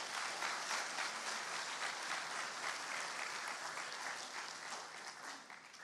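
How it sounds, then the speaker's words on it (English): A crowd at a high school awards ceremony applauds a seventh-grade student, a broad, continuous wash of many hands clapping that fades slightly toward the end, heard quietly at some distance. "Let's give her a round of applause"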